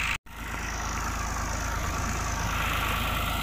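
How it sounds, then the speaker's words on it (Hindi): A tractor engine idles steadily and close by, a continuous low rumble with a fine regular throb, briefly cut by a short dropout near the start. "एक ट्रैक्टर है"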